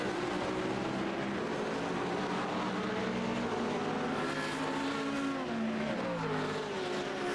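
An LMP2 race car at the 24 Hours of Zolder passes by with a loud, sustained high-pitched engine wail whose pitch sweeps and shifts as it goes past, continuous with no talk.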